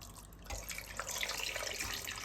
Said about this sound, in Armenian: Հիմա կլվանամ հոսող ջրի տակ